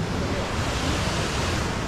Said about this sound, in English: We're so close to the waterfall right now.